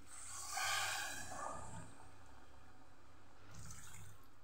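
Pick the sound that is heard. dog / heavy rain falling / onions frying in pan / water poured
water poured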